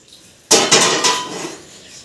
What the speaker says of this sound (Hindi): ये मैंने तवा रख दिया